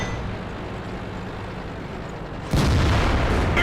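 A KV-1S tank cannon fires in World of Tanks, one sudden heavy boom that lands after a stretch of low engine rumble and stays loud and full to the end.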